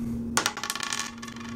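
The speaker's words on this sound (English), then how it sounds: "I may roll a die" A die rolled during a Space Hulk: Death Angel board game, giving a sharp clatter followed by a quick run of diminishing rattles as it tumbles and settles on a hard surface, close and alone.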